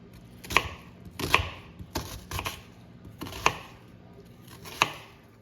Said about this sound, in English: let me show you how I chop my onion